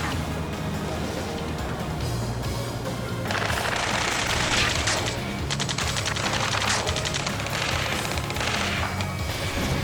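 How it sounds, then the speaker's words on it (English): Rapid machine-gun fire rattles continuously through a battle in the Ace Combat 7 flight game near a space elevator, dense bursts over a roaring background that thicken into a heavier barrage midway. "Taking fire! We're pinned down! Shoot back!"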